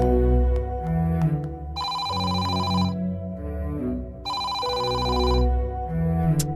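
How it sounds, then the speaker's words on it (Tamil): A telephone in a Tamil family drama scene rings in two long, loud electronic bursts separated by a pause, with music underneath and no voices. "போன் அடிக்குது"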